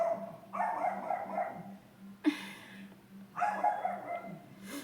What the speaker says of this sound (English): can these people shut their dog up?